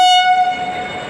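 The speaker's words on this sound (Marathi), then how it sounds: "नाही तोच हॉर्न वाजवतो, इकडचा हॉर्न वाजवतो." A WAF 4 electric locomotive hauling the Mangalore superfast express sounds its horn, a loud, close, sustained tonal blast that fades into rumbling rail noise within about a second.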